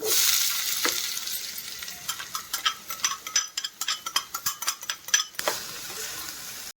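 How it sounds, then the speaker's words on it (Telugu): Chillies and onion fry in a pan for baby corn Manchurian, a bright hiss with a burst of rhythmic spatula clatter against the pan midway, close and loud, with no voices. "మిర్చి సన్నం ఫ్రై చేస్తున్నా ఆనియన్ ఇస్తున్నా"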